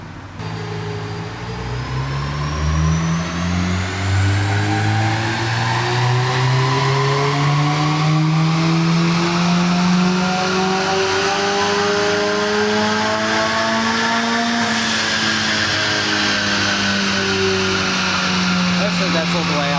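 A tuned car engine on boost revs steadily upward toward 7,000–8,000 RPM, its rising pitch climbing loud and close over about fifteen seconds before dropping slightly and holding high.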